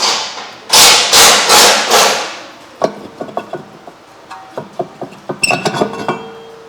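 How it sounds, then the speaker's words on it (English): Rear brake rotor coming off a 2015 Honda Accord: a few loud rhythmic hammer blows early on, then a string of lighter metallic clinks and knocks as the loosened rotor is worked free, close by with no talk. "Now you can start taking out the rotor itself"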